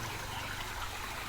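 Water flowing out from inside a cave near Halebidu in Hassan gives a steady, even rushing hiss, constant and unbroken throughout this short stretch.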